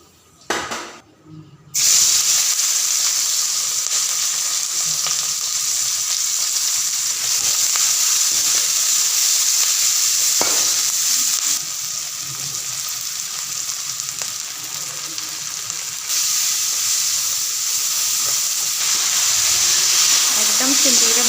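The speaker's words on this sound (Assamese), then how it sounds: "অকল পিঁয়াজ বিলাহী আৰু পনীৰখিনি দি আৰু ভাজিম" Onion, tomato and paneer frying in a pan, a loud continuous sizzle and hiss that holds steady for about twenty seconds after a brief opening clatter, with some faint stirring.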